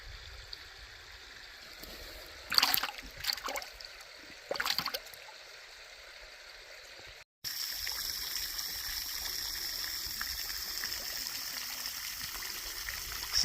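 A Kentucky creek flowing in a steady, gentle trickle and gurgle, with a few louder splashy bursts early on and then a brighter, continuous babble after a brief cut.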